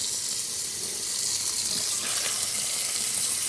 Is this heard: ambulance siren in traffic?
no